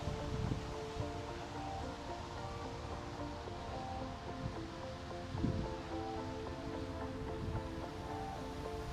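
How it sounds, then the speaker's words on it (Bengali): Steady wind blows through an open park by a bay on a cloudy afternoon, a constant rushing roar with gusts and microphone buffeting, and no voices. "বাতাস আর বাতাস চারিদিকে"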